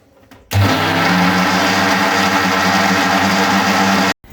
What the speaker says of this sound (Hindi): यहाँ पे मैंने एक मिक्सी के जार में इसको कर लिया है साफ़ करके, उसके बाद पीसूँगी इसको।